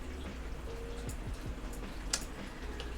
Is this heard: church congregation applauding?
no